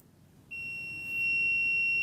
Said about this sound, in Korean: 삐 소리가 나면서 여기에 저항이 표시가 돼요